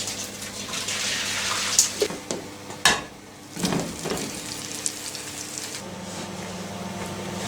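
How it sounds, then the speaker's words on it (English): Water from boiled potatoes pours and splashes steadily into a kitchen sink, close and continuous, with a few louder gushes and clatters and no voices. "Draining my potatoes."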